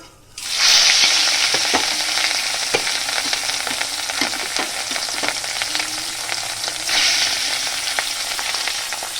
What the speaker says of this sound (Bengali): এভাবে আরও যে দু পিস মাছ আছে সেটাও আমি ভেজে নেব একবারে